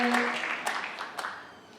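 A short burst of clapping from a youth church service audience, fading quickly, with a voice briefly audible at the start.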